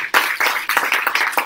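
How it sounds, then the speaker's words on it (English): An audience applauds at an evening art event for Ukraine, with dense, close clapping in several surging bursts and no voices over it. "let's give them another round of applause"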